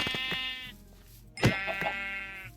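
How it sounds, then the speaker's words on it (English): Minecraft sheep bleat in drawn-out, wavering tones, two overlapping calls close and fairly loud, with a soft thump between them and no talking. "There's sheep. There are multiple sheep."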